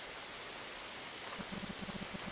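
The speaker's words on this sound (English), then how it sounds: "When did it even start raining?" Heavy rain in a Roblox video game keeps up an even, full hiss, with a cluster of low dripping taps toward the end, and no talking.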